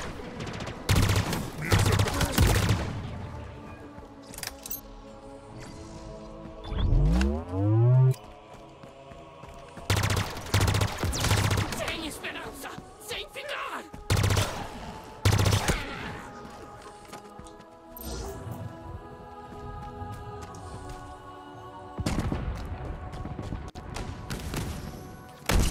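Halo Infinite campaign gunfire on Xbox Series X: loud bursts of rapid automatic shots and heavy blasts come in clusters across the stretch, with game voices at times.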